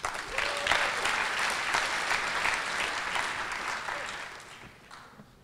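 Audience applause fills a hackathon closing ceremony hall: steady, dense clapping from a large crowd, loud and continuous, briefly marked by a thin whistle-like tone early on, then tapering off toward the end.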